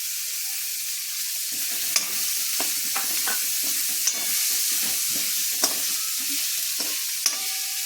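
Soaked peas hitting a hot potato masala, a continuous hissing sizzle broken by sharp clicks from a spoon stirring the pan.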